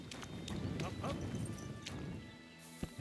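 Horses' hooves clip-clopping in Kingdom Come: Deliverance II, a dense, fairly close stream of hoof strikes with cart rumble underneath, easing off near the end, where one sharp knock stands out.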